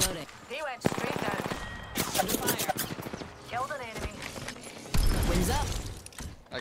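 Gunfire in Apex Legends, with bursts of rapid automatic shots and single cracks, some mechanical clanks between them, loud and close with overlapping game sounds.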